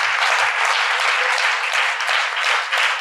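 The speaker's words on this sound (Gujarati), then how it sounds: "એટલે આ તાળી તો પાડો, કંઈક આપણું ભલું થાય." Sustained applause from a seated audience at a Swaminarayan religious discourse, dense and even clapping lasting throughout, loud and without speech.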